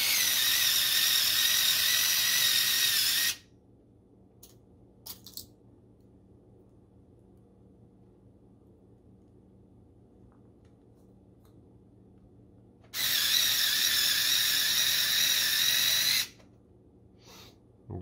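A power drill drives screws into plastic RC trailer parts, with a loud whirring burst of about three seconds and then near silence. A second burst of similar length comes later, and faint clicks fall in between.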